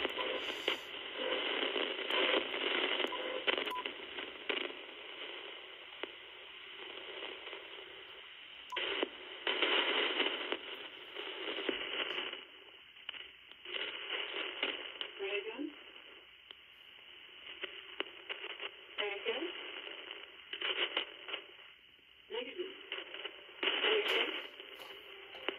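A rotating radio transmission received over the air comes through as a steady, band-limited stream of crackly tones and static. It runs continuously and fairly loud, with brief dips and a few sharper tonal bursts, and no clear talk.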